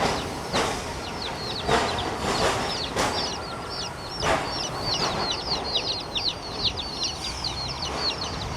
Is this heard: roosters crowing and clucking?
yes